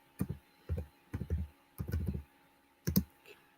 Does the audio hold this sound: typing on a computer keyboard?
yes